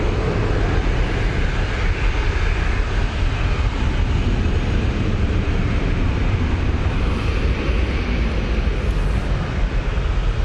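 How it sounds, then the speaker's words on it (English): Virgin Atlantic Airbus A350-1000 arriving from New York JFK on approach to land at Manchester Airport, a steady loud broadband jet roar with heavy low rumble, sustained throughout without talk. "Next in, Virgin Atlantic A350 1000 coming in from New York JFK."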